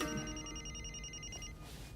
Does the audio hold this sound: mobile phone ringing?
yes